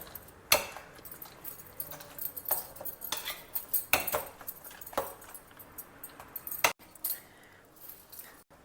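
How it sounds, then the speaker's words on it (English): A spoon mashes roasted brinjal pulp in a bowl, giving a close run of soft squelches broken by sharp, intermittent metallic clinks and scrapes against the dish, with no talking. "Now gently mash the pulp."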